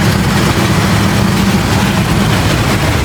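The engine of a vintage 52-year-old Jeep Wagoneer runs roughly, a loud, close, continuous low rumble with a steady drone and no pauses, heard alone without any speech.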